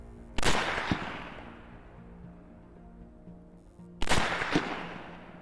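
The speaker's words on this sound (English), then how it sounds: "I set up for the shot 100 yards from the feeder" Two sharp, loud rifle shots about three and a half seconds apart, fired at wild hogs near a feeder from 100 yards, each with a short echo rolling away outdoors.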